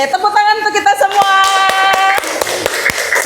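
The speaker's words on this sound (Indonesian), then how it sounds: "tepuk tangan untuk kita semua" A university classroom group claps hands together. After a short stretch of talking, scattered, irregular, sharp claps ring out loud and close, fairly sparse rather than a dense ovation.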